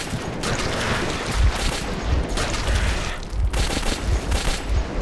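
Explosions and gunfire in the Metro 2033 video game: a dense, continuous fusillade of shots with heavy low booms landing every second or so, loud and relentless throughout.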